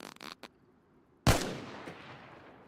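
One sharp gunshot in the video game DayZ, fired at a skeleton, cracks out loud and close after a quiet stretch and leaves a long decaying echo.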